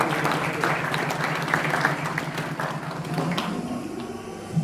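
A crowd applauds the volunteers at a training event, steady dense clapping that holds throughout at moderate loudness with a faint murmur underneath.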